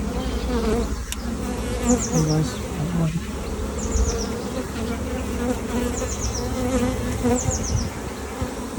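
Honeybees hum in a dense, steady drone at an opened hive full of drones and brood, close and continuous, with faint bird chirps above and a few soft words spoken.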